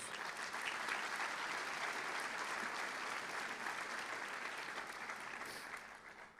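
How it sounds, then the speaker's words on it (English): Sustained applause from a sizable audience at a medical school white coat ceremony, steady and even, tapering slightly at the end. "They want to give you a round of applause."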